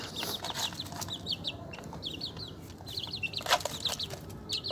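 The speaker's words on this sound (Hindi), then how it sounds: "ये चिक्स जो है ना ऊपर चढ़ के बाजरा भी खा रहे हैं और ये फीड भी खा रहे हैं" Two-month-old Aseel chicks peck at millet and feed, giving soft repeated cheeps and small clucks over a busy scratchy background of pecking and shuffling.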